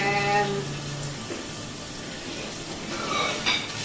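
An automatic cooking robot works through a batch of food with oil and garlic, giving a low steady hiss and faint scraping, with a few soft metallic knocks and clinks over a background hum.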